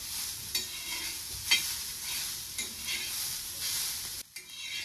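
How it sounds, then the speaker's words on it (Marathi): Onion frying in a pan on a gas flame turned to full, producing a crisp continuous sizzle broken by several sharp stirring scrapes, close and on its own with no talking. "तर अजून 1-2 मिनिटासाठी मी कांदा भाजून घेते। गॅस फुल ठेवल्यामुळे पटकन कांदा भाजला जाते।"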